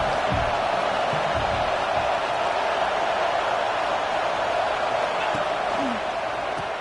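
Football stadium crowd in a game, a broad sustained roar of cheering spectators at moderate loudness, with scattered low thumps and a brief whoop near the end.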